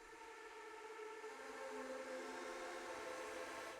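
A high woodwind section from the Spitfire Albion V library plays an airy, breathy articulation, a sustained hissing, whistling tone with faint pitched layers that holds steady for a few seconds.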